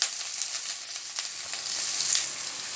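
Chopped ginger and garlic fry in hot oil with a bright, continuous sizzle and dense crackling spatter that holds loud and steady throughout, with no voices.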